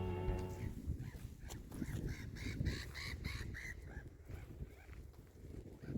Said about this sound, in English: Sounds like a coot or something.